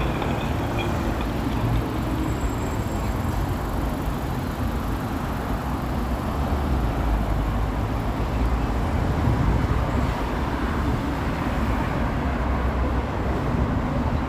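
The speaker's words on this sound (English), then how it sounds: "Sound of the cars on the bricks is cool." Steady rumble of cars rolling over a brick road at The Queensway and Humber Bay in Toronto, a continuous broadband traffic wash with tire roar throughout, no talk.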